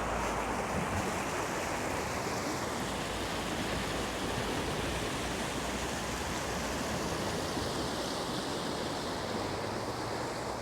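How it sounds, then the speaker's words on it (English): River water flowing on the Elizabeth River, a continuous broadband rush that stays loud and even throughout, close by and with no voices over it. "There's something very therapeutic about flowing water."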